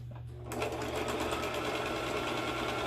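A sewing machine stitches quilt pieces, starting after a brief quiet moment and then running in a steady, continuous close-up whir.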